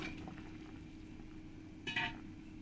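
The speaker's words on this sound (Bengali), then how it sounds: "যখন এই টকের ঝোলটা এরকম ভালোভাবে ফুটে যাবে" Sour mango and fish broth bubbles quietly at a low simmer, with a soft continuous burble and a brief clink of a pot near the end.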